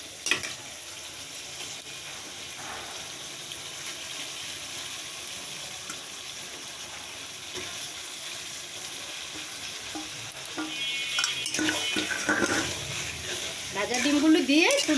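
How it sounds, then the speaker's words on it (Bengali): Fried eggs are stirred into a potato curry with spices simmering in a pan, a continuous close sizzle with soft stirring scrapes that grows louder and busier toward the end. "ভাজা ডিমগুলো দিয়ে একটু নেড়ে নিব"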